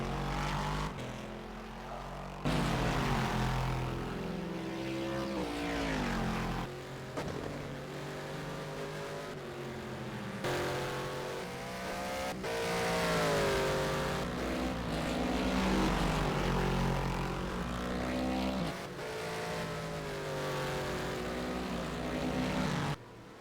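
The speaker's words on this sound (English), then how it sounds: "Braking into the braking zone then. And accelerating out again." A racing car in a sim racing game at Bahrain brakes into a corner and accelerates out, its engine drone steady and loud, with pitch sweeping down and back up again and again.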